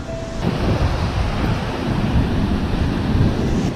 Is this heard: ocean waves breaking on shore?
yes